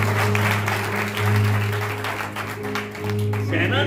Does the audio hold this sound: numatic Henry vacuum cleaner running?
no